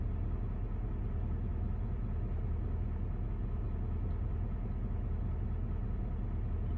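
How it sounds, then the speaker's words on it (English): A Chevy truck with a big V8 diesel engine idles nearby, a steady, dense low rumble that holds unchanged throughout with no talk. "I mean, you hear the truck."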